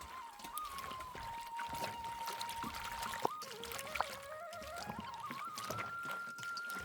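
Foraged herbal leaves washed by hand in a vessel of water outdoors, with sloshing, trickling and pouring sounds continuing steadily throughout, close and moderately quiet.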